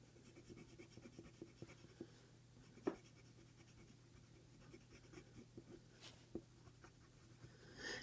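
Warm grey colour pencil shades lightly across paper for a base layer, a soft, steady scratching of continuous strokes with a few small taps, faint and close in a quiet room.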